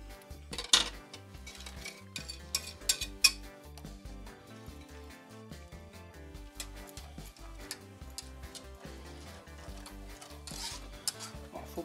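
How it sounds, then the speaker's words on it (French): A spoon stirs thickening flan custard in a pan, giving a run of quiet, irregular clinks and scrapes with a few sharper knocks, close and soft, with no talking. "je remue sans arrêt pour éviter que ça colle dans le fond"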